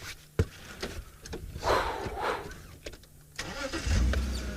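A safari vehicle's engine runs steadily while it drives around a fallen tree, with a sharp thump early on and rattling bumps over rough ground, rising to a heavier rumble near the end.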